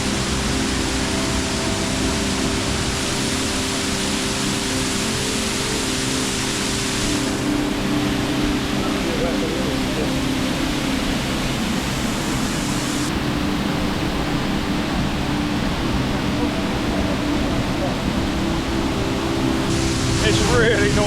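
Steady, dense roar of a waterfall in the Brecon Beacons, heard up close as continuous loud rushing water with no breaks, voices faintly mixed in.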